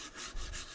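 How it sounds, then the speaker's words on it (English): Sandpaper rubs by hand along the edges of a cedar barrel stave in a few quick, soft, close strokes lasting under a second. "I'll just hand sand the edges to take off any tear out"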